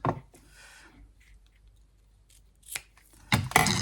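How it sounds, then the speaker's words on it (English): Scissors snipping a strip of Boho blue ribbon for a handmade panel card: a short rustle at the start, a single crisp cut midway, then a louder closing snip, quiet and close with no speech. "So I'm going to cut a strip of that to go around the card."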